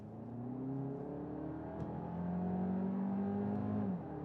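Audi Q3 with the 265-horsepower 2-liter TFSI engine accelerating hard from 30 to 50 mph, a close, steady engine drone rising in pitch through the gears with a brief shift dip, loud and continuous, no talking.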